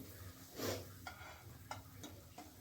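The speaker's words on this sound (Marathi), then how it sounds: "मी बघा कढाई ठेवली त्यामध्ये मी अद्रक लसूणचा पेस्ट टाकलेला आहे ते छान असा भाजून घ्यायचा आहे" Ginger garlic paste frying in a kadhai, a soft hiss under a few scraping strokes of a spatula spaced about half a second apart, quiet and close.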